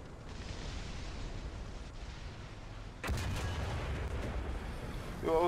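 SU-152 tank destroyer cannon firing in the tank game War Thunder, a steady engine rumble broken by one heavy booming shot midway and a sharp burst near the end.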